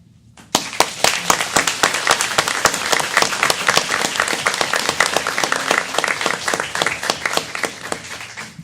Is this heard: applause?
yes